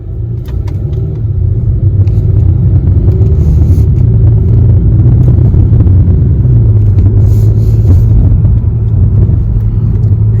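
A 2021 Acura TLX in sport mode pulls away from a red light, its engine rumbling as a steady, loud, low drone heard from inside the cabin, with no talking.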